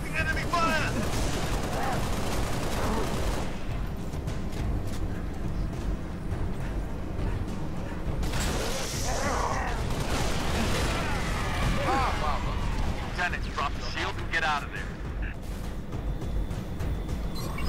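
Sustained gunfire in the Halo Reach video game, Mission 4, with continuous dense shooting and battle noise throughout, loud and busy, with bursts of louder fire midway and players talking over it.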